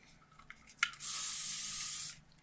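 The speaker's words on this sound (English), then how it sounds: "A little hairspray," Hairspray from an aerosol can is sprayed onto hair in one steady hiss lasting about a second, close and clear, after a small click.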